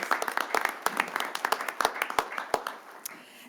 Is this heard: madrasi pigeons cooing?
no